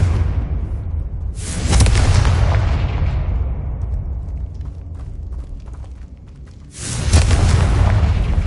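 Two loud, booming explosive blasts from the Confringo spell in the video game Hogwarts Legacy, each a sharp, broadband hit followed by a long rumbling decay, the second arriving about five seconds after the first.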